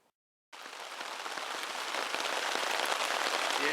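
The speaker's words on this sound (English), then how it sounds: "Yeah, it's proper raining now." Heavy rain starts abruptly after a brief silence, then pours steadily as a dense, loud hiss of drops hitting surfaces on an overnight outdoor trip, with no one speaking.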